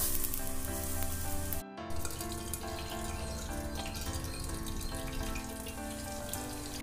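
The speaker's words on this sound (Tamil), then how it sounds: "இந்த எண்ணெயிலே இது நல்லா வேகட்டும்." Chicken pieces frying in hot oil in a single pot for chicken rice, a steady close sizzle and crackle with a brief break partway through, no talk.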